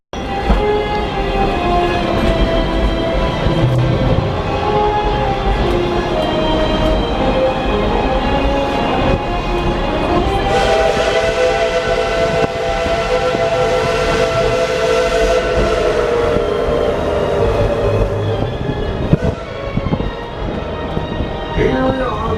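Coal-fired steam locomotive on the Tweetsie Railroad rumbling along the track, with a long, loud steam whistle sounding over the steady chuff and rattle of the passenger cars.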